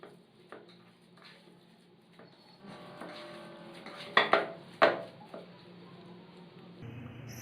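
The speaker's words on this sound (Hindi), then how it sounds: "अब सारे इंग्रेडिएंट्स अच्छे से मिक्स कर लेते हैं।" Spoon scraping and clinking in a bowl while ragda patty ingredients with coriander and roasted cumin are mixed, soft scraping turning to a few sharp knocks midway, with no talk.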